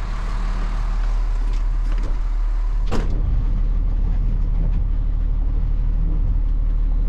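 A loud truck engine idles close by with a heavy, constant low drone, broken by a brief sharp knock partway through.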